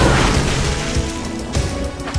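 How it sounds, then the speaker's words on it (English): A submarine fires a torpedo that explodes in the Red Alert 2 video game: a loud booming blast followed by rolling crashes and thuds over about two seconds. "Dive! Fire torpedo!"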